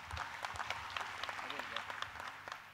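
Audience applause breaks out at a tribute to the nature poet Mahanor on his 75th birthday, steady dense clapping with scattered sharper claps throughout, moderately distant in a hall.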